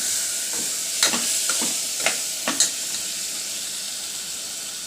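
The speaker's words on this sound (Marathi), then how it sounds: "डाळ आणि शेंगदाणे चांगले परतवून घ्या।" Lentils and peanuts sautéing in a pan for palak bhaji, with a steady sizzle and several sharp scraping stir strokes, close and moderately loud, with no talking.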